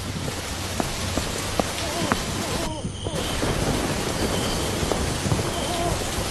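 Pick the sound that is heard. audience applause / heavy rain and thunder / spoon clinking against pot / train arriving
heavy rain and thunder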